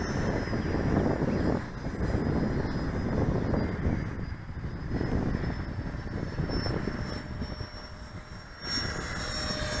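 An RC F-86 Sabre model jet driven by a 90mm electric ducted fan flies past outdoors, a steady whooshing whine rising and fading, mixed with wind buffeting the microphone.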